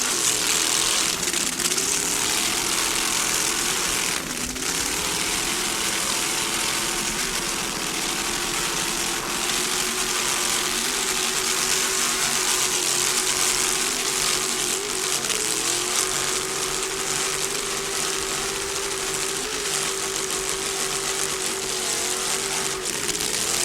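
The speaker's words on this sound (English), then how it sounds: "Just listen to those Pro 1 racing inboards." Pro 1 racing inboard powerboats roar through a race at the 1998 Key West World Championships: a dense, continuous engine drone with shifting pitch as the throttles ease and open, loud and sustained throughout, with no voices.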